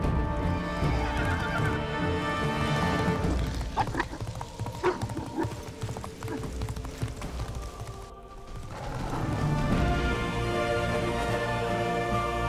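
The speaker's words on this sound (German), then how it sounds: "So, treues Pferd. Bring mich weiter." Horse in Castlevania: Lords of Shadow neighs and whinnies loudly while hooves clip-clop in a galloping rhythm, set over a continuous orchestral game score.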